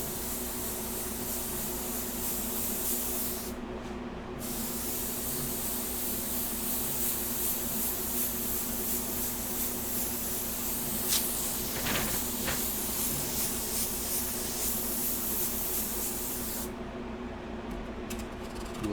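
An airbrush sprays golden paint while painting hair, producing a continuous close hiss of air and paint that thins briefly near the start and again near the end.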